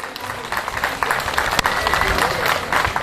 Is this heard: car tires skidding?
no